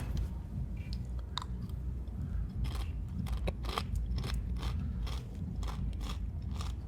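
Close, crunchy chewing of a fried snack coated in spicy sauce, with a run of sharp crackling bites and crunches over a steady low rumble, and no talking.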